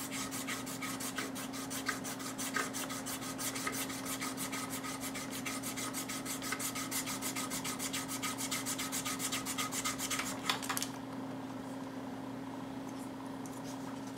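Sandpaper rubs an airsoft AEG hop-up rubber in quick, even close-up strokes over a steady low hum, stopping near the end and leaving only the hum.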